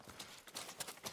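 Horse hooves clip-clopping in a rapid rhythm as a horse approaches in the Ghost of Tsushima video game, faint and soft over a steady background wash.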